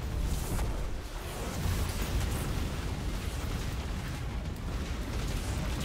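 Missile explosions in the video game Destiny 2 roar as a dense, continuous rumble of blasts and bursts, loud and unbroken for several seconds with no talk over it.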